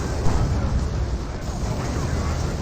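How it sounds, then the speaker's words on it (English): Grenade blasts from the Dawn of War 2 strategy game rumble through a dense, continuous low battle roar, with a sharper thump near the start and a talking voice over the steady din. "Those grenades do get some good hits."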